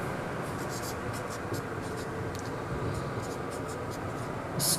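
Writing on a classroom board, continuous scratchy strokes heard close over a steady background hiss, ending in a short louder scrape.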